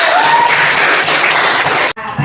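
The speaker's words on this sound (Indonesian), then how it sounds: "Tepuk tangan untuk Ayu." Classroom applause for a student named Ayu, a brief burst of many hands clapping at once that cuts off abruptly after about two seconds.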